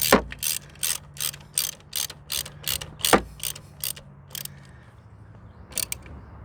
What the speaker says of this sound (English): Get our 3/8 drive, 25 extensions. Tighten up top one here.